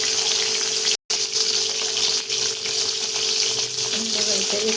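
Tomato masala fries in a kadai with a loud, steady, close sizzle of hot oil that continues throughout, broken only by one brief silent gap.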